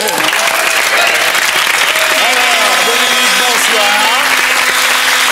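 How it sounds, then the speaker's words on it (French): Studio audience applause on a French television talk show, loud steady clapping filling the whole clip, with voices and a musical jingle heard over it. "On applaudit alors"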